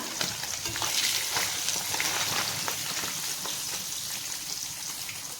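Fish fries in hot oil in a pan with a steady, dense crackling sizzle that stays loud and close throughout, dotted with small popping spatters.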